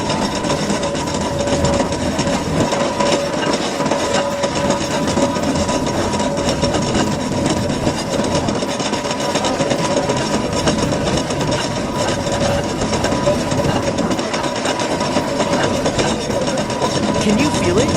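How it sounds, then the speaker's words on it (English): A steam-powered bulldog engine running continuously with a dense, even mechanical rumble and rhythmic clatter, loud and close, with faint voices in the background. "The power of steam and the bulldog engine."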